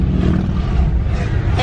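Dense roar of cars and motorcycles passing at a 24-hour race, a continuous loud engine wash close by with crowd noise mixed in.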